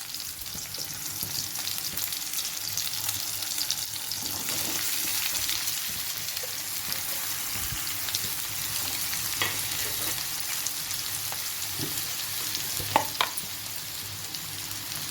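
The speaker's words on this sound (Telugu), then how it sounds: "ఇవి కొంచెం వేగిన తర్వాత మనం కట్ చేసి పెట్టుకున్న అరటికాయ ముక్కలు ఇందులో వేసుకోవాలి." Raw banana pieces fry in a pan with chopped onions, a dense, steady sizzling hiss with occasional louder crackles and a stirring scrape near the end, close-up and without voices.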